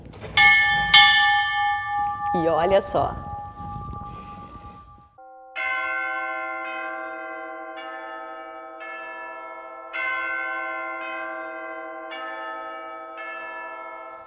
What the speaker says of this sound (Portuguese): As pessoas chegavam e batiam o sino.